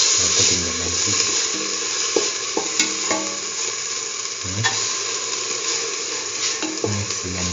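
Lentils being stirred into a sizzling mixture for mustard lentil rice with fenugreek leaves, steady close frying hiss with intermittent scraping knocks of the stirring utensil against the pan.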